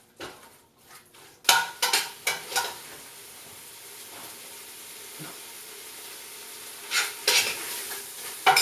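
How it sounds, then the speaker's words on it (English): Vegetables sizzle in a pan during a vegan cooking class, with clattering bursts of stirring at the start and again near the end and a steady quieter fry between them. "after you see it sizzling and it starts to cook, and then you can lower the heat"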